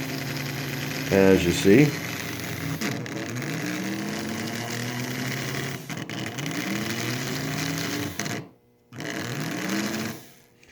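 Antique Marx toy electric motor running with a steady whirring hum and rhythmic mechanical clatter, close up, briefly dipping to near silence before restarting, with someone talking over it.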